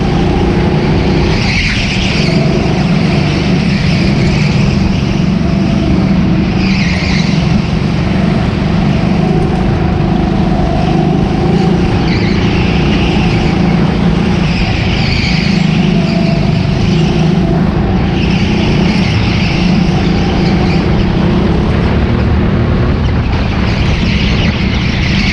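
Go-karts race around the track at Teamsport Cambuslang, engines buzzing loudly and continuously while tyres squeal through corners.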